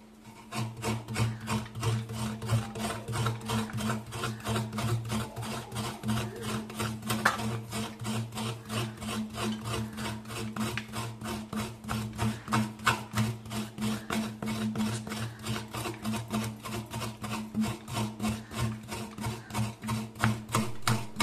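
Coconut being grated by hand for a sweet dumpling filling, a steady rapid rasping scrape repeating in an even rhythm, close and alone with no talk.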